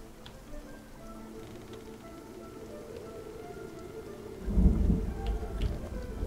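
Thunder rolls through a storm in the video game Spiritfarer, a soft rain hiss building into a louder low rumble near the end, with no talk.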